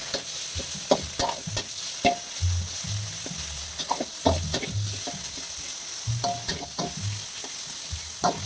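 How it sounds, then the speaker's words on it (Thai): Pork stir-fries in a hot pan for thick tom yum noodle soup, with repeated rhythmic spatula scrapes and tosses over a constant close sizzle. "ใส่หมูไป ผัดหมูให้หอมให้สุก"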